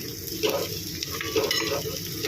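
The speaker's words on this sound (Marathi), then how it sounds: "हे बघा कांदा जसा आपला लाल होत चालला हा" Onions fry and sizzle in a pan while being stirred, browning for a clam masala; a steady close crackle with soft scraping and no speech.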